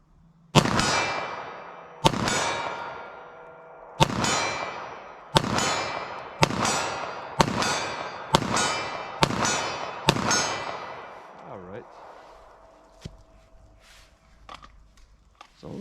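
Handgun firing 115 grain FMJ rounds at steel targets 40 yards away: nine sharp, loud shots at a steady pace of roughly one per second, each leaving a ringing tail, then quiet handling noises.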